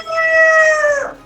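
A human voice imitating a rooster crowing, a single sustained tonal call that holds steady and then drops off at the end, loud and close, delivered alone without talk.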